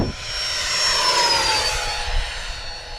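A Freewing F-18 90mm RC jet with an electric ducted fan flies over a grass field, its loud, steady whine sliding downward in pitch as it passes and moves off.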